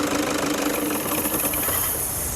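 A 2014 Toyota Innova 2.5 V diesel engine runs steadily at idle, a close, loud, even mechanical clatter with a hissing edge and no talk.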